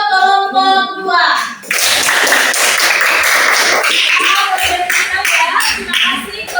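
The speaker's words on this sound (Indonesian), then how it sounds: "Tepuk tangan dulu untuk kelompok 2" Classroom of students clapping for a group that has just presented, a loud, dense burst of applause that starts after a short tone and continues steadily, close and filling the room.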